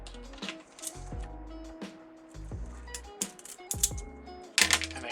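Scissors snip through strips of Dollar Tree deco mesh in a quick series of sharp crisp clicks and crunchy cuts, close up and irregular, with no talking.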